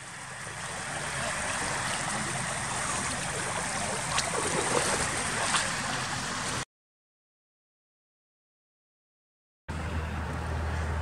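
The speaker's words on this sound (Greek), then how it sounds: "Μπόλικο νερό κατέβασε εδώ εις." Rainwater from a downpour in Sykia, Chalkidiki, Greece rushes in a loud, steady torrent into a drain, broken by a few seconds of complete silence before the flow resumes.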